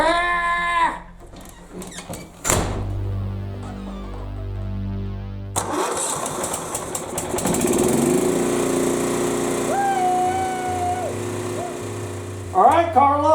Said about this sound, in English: All right, Carla, I fixed your lawnmower.